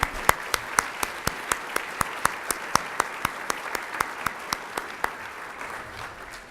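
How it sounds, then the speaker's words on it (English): Audience applause for award recipients at a city State of the City luncheon, heard as a steady patter of clapping with sharp individual claps standing out, moderately distant and continuing throughout. "please join me in giving a round of applause for all of our award recipients"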